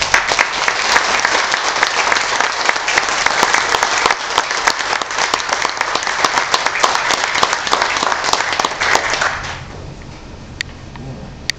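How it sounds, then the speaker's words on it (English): Loud, dense audience applause fills a banquet hall at a VFW post award banquet in honour of World War II veterans, then drops off sharply near the end, leaving only faint scattered claps. "let's give them another round of applause."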